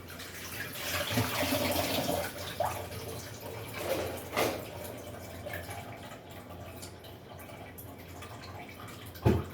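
An item rinsed under a running kitchen tap, a moderate steady water hiss with occasional splashes and clatter, a sharp knock near the end, no talking.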